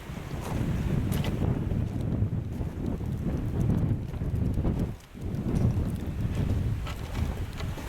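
Steady, rough wind buffeting the microphone, a continuous low roar with gusty swells and a brief lull partway through.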